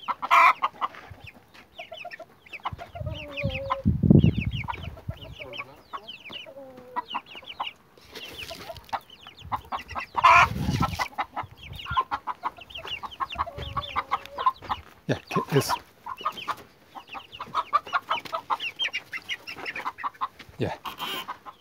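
Hens clucking and chicks peeping continuously nearby, a busy chatter of short calls with a few louder squawks scattered throughout.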